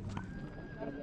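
Horses and foals at a horse market in Kara-Balta, with a whinny and hoof sounds close by under steady crowd chatter and talk, loud and busy throughout the short moment.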